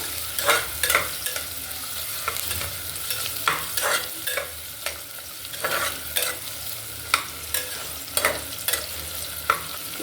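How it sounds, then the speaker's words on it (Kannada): Onions fry in oil with a continuous close sizzle while a spoon stirs them, its scrapes and clatters landing in regular beats over the hiss, with no voices. "ನಾವು ಎಣ್ಣೆಲೆ ಫ್ರೈ ಮಾಡಬೇಕಾಗ್ತದೆ ಇದನ್ನ ಈರುಳ್ಳಿನ ಚೆನ್ನಾಗಿ ಫ್ರೈ ಆಗಬೇಕು"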